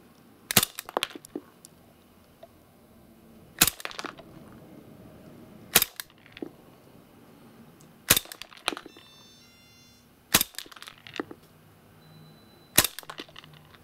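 Cybergun FNX-45 airsoft pistol firing 0.2 gram BBs through a chronograph: six sharp, loud snapping shots spaced a couple of seconds apart, each followed by a short rattle, with no talking.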